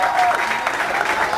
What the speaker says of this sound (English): and a round of applause for him also.